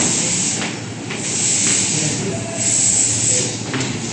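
Refrigerant hissing steadily from a loosened nut on the yellow manifold gauge hose of a car air conditioner, a loud, continuous close-up spray that swells and eases slightly throughout.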